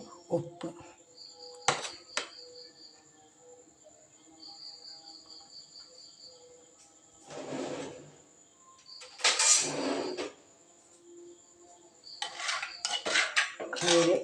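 Mango pulissery being stirred and mixed in a pot, with intermittent clattering metal scrapes and knocks in short bursts over a quiet background with a faint steady high hum.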